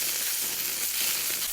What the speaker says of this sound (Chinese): 我们要把金针菇煎至底部定型